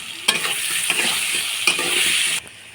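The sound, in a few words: chopped onions frying and being stirred in pan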